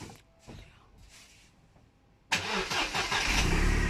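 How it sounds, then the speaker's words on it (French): A Mercedes CLK W208 starts up: faint rustling and clicks, then the engine abruptly catches and settles into a loud, steady idle close to the microphone. "je vais démarrer la voiture"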